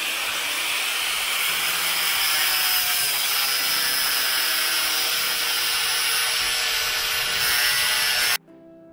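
A power tool grinds steadily through metal rods cut to length for a concrete panel fence, a loud continuous hissing, whining cut lasting several seconds outdoors before stopping abruptly near the end.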